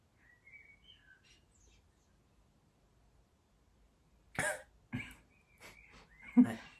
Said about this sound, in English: The cough was not scripted.